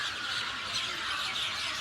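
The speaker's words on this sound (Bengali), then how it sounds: "পাখির কিচিরমিচির শব্দ শোনা যাচ্ছে।" Birds squawk and squeal in dense, continuous calls at dusk among riverside trees in Bangladesh, a steady high chorus close by with no voices.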